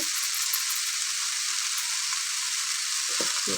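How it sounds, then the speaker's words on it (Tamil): Red amaranth stems and greens sizzle steadily in an open pan, a continuous bright frying hiss with a few soft stirring scrapes near the end, close and alone with no talk. "இப்படி திறந்து வச்சு ரெண்டு கிண்டு கிண்டி கொஞ்சம் வதங்கட்டும்"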